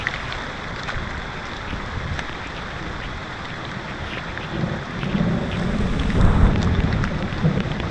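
Heavy typhoon rain pouring steadily with rumbling wind in San Pablo City, Laguna, a dense continuous roar that swells louder toward the end; no talking.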